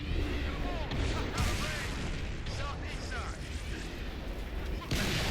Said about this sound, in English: we'll take out this wraith using our rocket launcher